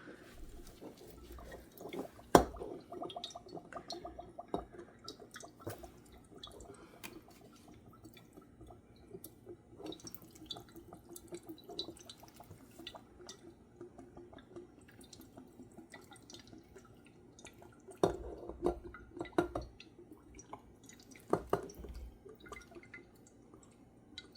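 Apple cider vinegar trickling slowly from a bottle, giving faint, irregular drips and small splashes with a few louder gurgling bursts against a quiet background.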